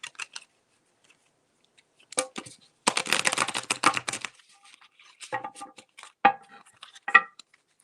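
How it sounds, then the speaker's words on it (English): Tarot cards are shuffled in quick bursts, with crisp riffling and slapping against a table, separated by short pauses of silence and a few lighter taps. "Okay, Lisa, let me shuffle these cards really quick"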